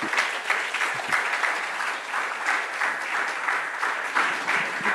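Steady crowd applause from an audience at a summit event honouring volunteers and children, a dense, even wash of many hands clapping throughout with no break.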